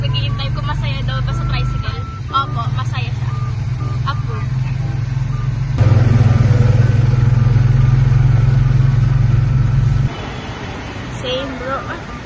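A tricycle's engine drones low and steady while riding in the rain, its rumble swelling louder midway and then easing back, with faint chirps and beeps of surrounding traffic and voices talking over it.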